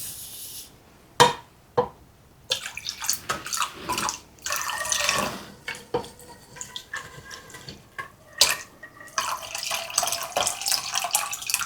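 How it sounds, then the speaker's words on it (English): Liquid pours and splashes into water in uneven bursts, with drips and a few sharp clinks between pours, close by. "I'm going to pour this into my cold water"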